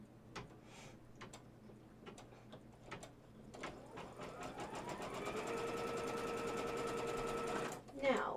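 An embroidery machine stitching fabric pieces right sides together in the hoop, starting up midway into a steady, rapid mechanical whir with rhythmic needle ticking, after a stretch of quiet handling clicks.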